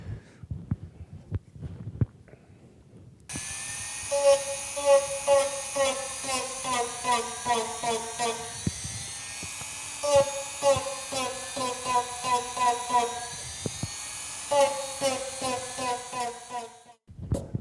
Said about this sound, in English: it's just going to be easier to come back in with a Dremel tool